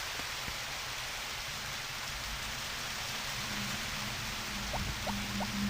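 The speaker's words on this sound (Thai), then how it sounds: "ฉันไม่ชอบจริงๆเลยอ่ะฝนตกเนี้ย" Steady, dense rain hiss from the PS1 game Harvest Moon: Back to Nature fills the whole stretch, with a few faint tonal blips near the end; no voices.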